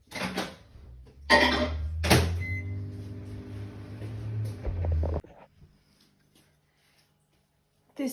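A microwave oven hums steadily for a few seconds as it warms milk. The hum starts and stops with clunks and rattles, then falls to near silence before a final beep.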